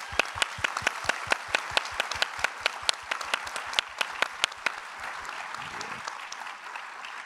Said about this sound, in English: we should give those people a round of applause too